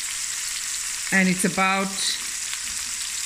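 Fish fries in a pan over medium heat with a steady, bright sizzle throughout, while a voice speaks briefly over it.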